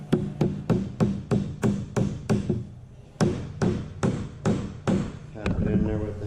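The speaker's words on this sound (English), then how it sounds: "Tap it in there with the hammer till it stops." A hammer taps a glued wooden dowel plug into a hole in fence-board wood for a rustic barstool: about fifteen sharp, evenly spaced knocks in two runs, close and loud, with a brief pause between them.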